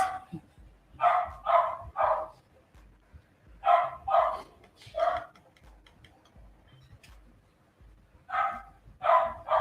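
Several dogs barking in repeated clusters of sharp, mid-pitched barks, fairly loud and close, with short quiet gaps between the bursts.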